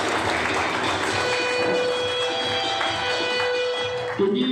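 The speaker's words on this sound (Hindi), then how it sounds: "दिनेश जी पाटीदार सर के लिए एक बार जोरदार ताली हो जाए" Steady, dense applause from an audience at an indoor gathering, sustained at even loudness for several seconds before tapering off at the end.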